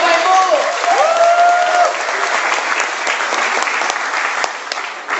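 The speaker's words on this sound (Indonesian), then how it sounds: "beri aplaus buat Anda" An indoor audience at a business seminar claps together in a dense, steady burst of applause, with a voice briefly calling out over it at the start.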